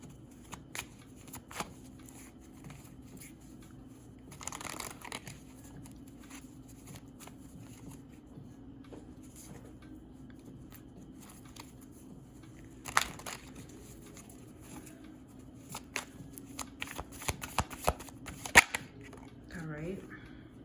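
A deck of tarot cards is shuffled in scattered bursts of soft shuffling and sharp slaps, quiet and close, with a faint low hum underneath.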